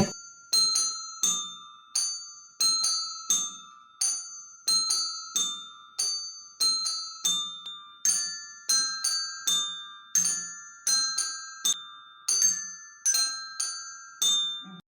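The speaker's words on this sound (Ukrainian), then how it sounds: "Діатонічні дзвоники." Diatonic handbells played at a kindergarten music session, ringing bright metallic tones one after another in a steady melodic rhythm, each strike decaying with a clear sustained ring, heard alone for about fifteen seconds.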